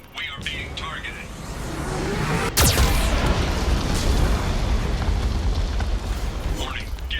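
A loud Geth cannon explosion from the video game Mass Effect 2 cracks sharply and close, then rolls into a thick, sustained roar of rumble and debris noise under in-game speech.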